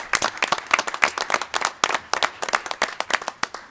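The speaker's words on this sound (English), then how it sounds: "Let's give them a round of applause." An audience at a village board of trustees meeting claps steadily for the color guard, a dense, even round of applause with no voices over it.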